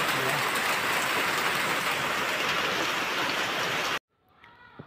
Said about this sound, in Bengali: খুব জোরে সোরে বৃষ্টি হচ্ছে